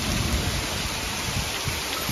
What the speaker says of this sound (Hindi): बारिश देखो क्या भयंकर वाली हो रही है।